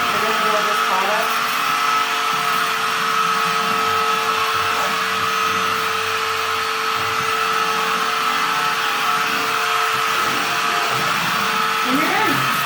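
A Dirt Devil cordless swivel vacuum cleaner runs continuously close by with a steady, loud motor whine and airflow hiss that never lets up.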